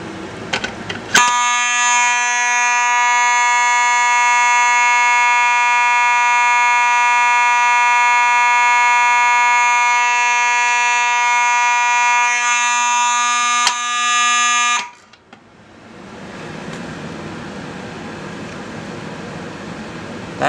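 A Faraday 6120 fire alarm on a Simplex strobe plate sounds a loud, steady, piercing electronic tone at close range for about fourteen seconds, then cuts off abruptly, leaving faint room noise.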